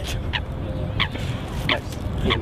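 Ducks being fed bread give a handful of short, separate honking quacks, about four in a row spaced evenly apart, moderately close over a steady outdoor rumble.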